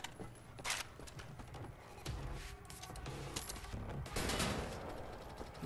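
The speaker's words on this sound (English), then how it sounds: "Who's shooting at me?" Gunfire in the Wolfenstein: The New Order video game rattles in steady, fairly faint automatic bursts that keep up across the stretch, with a few sharper cracks standing out.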